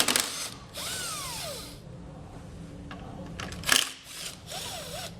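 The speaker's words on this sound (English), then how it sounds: "So there's 2 bolts here we're going to remove using a 10mm socket." A power tool drives a 10mm socket to remove bolts on a 2017 Honda Civic, producing a few short whirring bursts whose pitch rises and falls, with ratchet-like clicks and a metallic clack in between.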